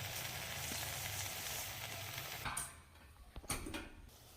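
Mushroom masala for a biryani cooks over a medium flame, giving a steady close sizzle that drops abruptly, followed by a few sharp metallic clinks of a lid and pot and a fainter hiss.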